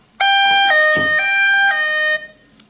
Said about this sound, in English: You have to manually stop the alarm from ringing.